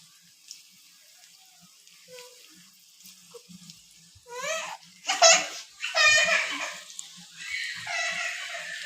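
A young girl babbles and chatters close by in a home kitchen where ladies finger fry is cooking in a frying pan, her voice rising in short bursts over soft background hiss.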